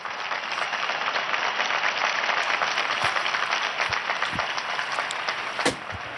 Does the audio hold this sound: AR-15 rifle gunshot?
no